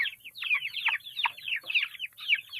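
Chickens cluck and chirp in quick, busy bursts close by, a steady run of short calls with no pauses.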